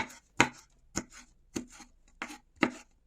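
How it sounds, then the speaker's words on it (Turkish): Green and hot peppers are cut into cubes on a board. There are about six crisp, evenly spaced knife strikes, close and clear, with no talking. "Yeşil ve sivri biberi de küp küp doğradıktan sonra"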